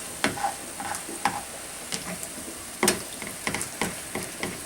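A balsamic-glazed pork chop sizzles steadily in a frying pan, with scattered close taps and scrapes of a utensil against the pan over the constant hiss.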